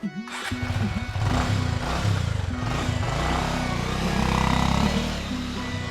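A Honda motorbike engine starting up and running as it is ridden away, a steady buzzing drone with uneven throttle, close and fairly loud throughout.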